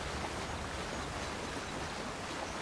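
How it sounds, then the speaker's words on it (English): Waterfall in the fantasy video game Avowed, a constant broadband rushing roar of falling water, steady and even from start to finish with no voices over it. "I really just wanted to make sure there was nothing under this waterfall."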